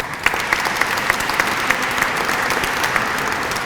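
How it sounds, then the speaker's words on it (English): A Cleveland audience at a Hispanic Heritage Month closing ceremony gives a dense round of applause that holds steady throughout, with sharp individual claps standing out from the crowd. "So you can give yourself a round of applause for that."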